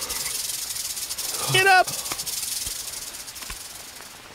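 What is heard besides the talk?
snake hissing in the video game Green Hell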